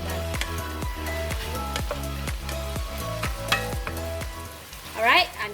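Ground beef and basil leaves stir-fry in a hot pan, with loud continuous sizzling and rhythmic scraping of a spatula at a regular pace, with no talk.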